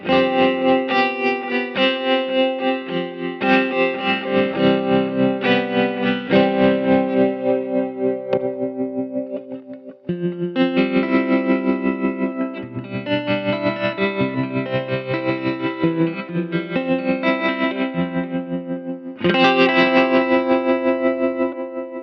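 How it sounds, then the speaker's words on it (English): An electric guitar plays through a Gravitas pedal with delay and reverb. Sustained, shimmering chords ring out in repeated strummed phrases with a short pause midway, loud and alone with no talking. "Here's the Gravitas with a little delay and reverb."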